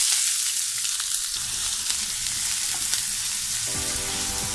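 Onion sautéing in two spoons of oil over full gas for soya masala fry, a loud steady close sizzle with occasional stirring scrapes throughout, no voices.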